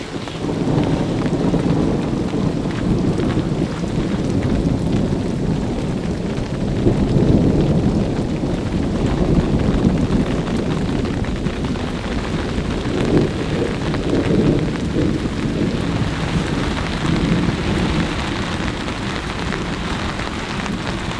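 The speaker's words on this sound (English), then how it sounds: "it sounds like another thunderstorm is approaching" Heavy rain pours down steadily at a campsite during a thunderstorm, with low rumbling thunder rolling beneath the dense hiss of drops drumming on surfaces, continuous and loud throughout.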